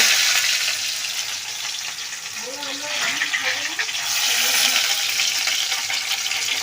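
Onions being added to hot oil already holding dried red chillies and bay leaves for a tarka, giving a steady broad sizzle and frying hiss throughout, with brief faint voices underneath.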